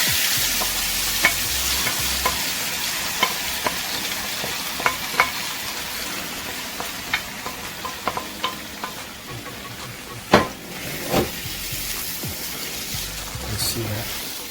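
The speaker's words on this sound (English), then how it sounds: "we're going to heat it up in this pan. Okay, in some oil." Thai chili paste ingredients frying in hot oil in a pan for Nam Prik Pao, a steady close sizzle broken by scattered clicks and taps of a utensil stirring, with no talk.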